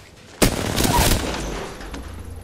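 Gunfire in the Apex Legends video game during a firefight, a sharp loud burst followed by a rapid volley of shots over about a second, then fading echoes and a faint later report.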